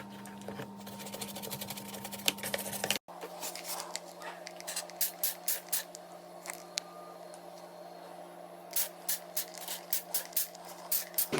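Elbow grease cleaner sprayed around the edges of a washing machine drawer: a series of short trigger-pump spray bursts, some in quick runs, over a faint steady background hum, fairly close.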